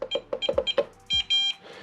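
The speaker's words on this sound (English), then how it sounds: "Those 2 long beeps, that means the factory reset was successful." Onnais gun safe factory reset: a quick run of short electronic beeps with clicks from button presses, followed by two long tones close by.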